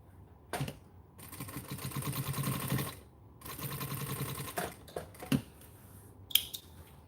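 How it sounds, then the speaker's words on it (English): A home sewing machine top stitching fabric, running in two steady bursts of rapid mechanical stitching separated by a short pause, followed by scattered clicks and a faint high tick. "I'm gonna go ahead and top stitch here again"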